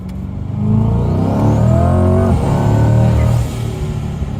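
A twin-turbo C8 Corvette engine runs steadily at close range, its deep exhaust burbling and rumbling, with a slight rise in revs partway through.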